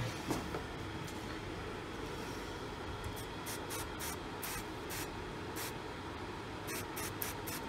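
Repeated short bursts of aerosol spray hiss onto a car thermostat to cool it, several in quick succession near the end, over steady background noise.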